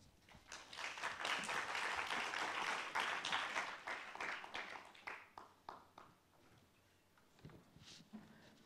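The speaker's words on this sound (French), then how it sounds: "Merci de les applaudir." An audience applauds two presenters at a French conference event, a steady wash of clapping that swells, holds for several seconds, then fades to scattered claps, heard at moderate distance in a large room.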